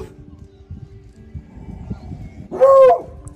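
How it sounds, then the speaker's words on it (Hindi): A dog barks and yelps loudly in a short burst near the end, after a quieter stretch of low rumbling background noise. "हाँ कुत्ते कुत्ते कुत्ते कुत्ते कुत्ते आ गए"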